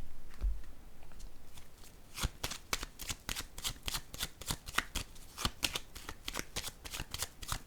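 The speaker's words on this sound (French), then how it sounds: "Je vais déposer une carte sur ces deux-là." Tarot cards shuffled and laid down during a reading, a dense run of crisp riffling snaps and slaps after a softer opening second, close and steady with no talk.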